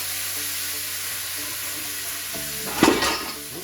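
Red wine splashes into a hot pan used for braising beef, bursting into a loud sizzle near the end after a quieter stretch of low frying hiss.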